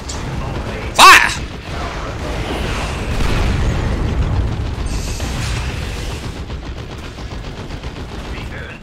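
Mobile artillery in the Dawn of War 2 game fires with a sharp loud blast, followed by a long rumbling spread of distant explosions and crackling gunfire that fades out over several seconds.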